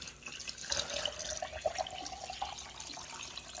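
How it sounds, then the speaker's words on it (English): Water poured into a container while mixing a turkey injection marinade for beer can turkey, a steady splashing stream that runs throughout with a few brief sharper splashes, close by and with no talk. "Now I'll throw in about 2 cups of water."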